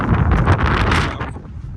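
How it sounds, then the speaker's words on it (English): Gusty wind on a North Country Trail hike buffets the microphone in a loud, rumbling roar that eases off slightly toward the end. "Windy, y'all."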